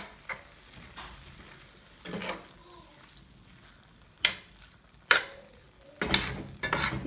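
Turkey meat browning in a pan on a wood cook stove, a soft sizzle under scattered scraping and stirring clatters, with several sharp utensil knocks toward the end.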